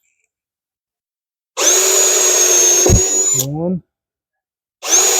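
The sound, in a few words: power drill drilling holes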